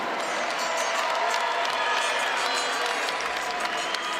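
Steady applause from Minnesota Gopher fans at a Big Ten college wrestling dual meet against Purdue, a dense crowd clapping continuously with some cheering mixed in, filling the arena at even volume throughout.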